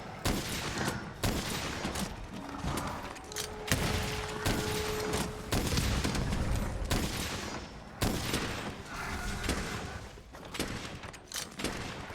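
Shotgun fire in Monster Hunter: World comes as a dense, continuous run of heavy blasts and impacts. The shots are loud and close and crowd together over about twelve seconds of combat.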